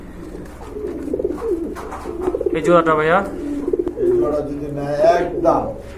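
A pair of large Jhorna satin pigeons, cock and hen, cooing in bursts among a seller's cages, with someone talking over and between the soft throaty calls.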